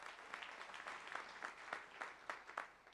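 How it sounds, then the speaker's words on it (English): An audience at a live Future Fund event gives a round of applause, a dense, steady patter of many hands that sounds soft and somewhat distant. "Let's have a round of applause for that"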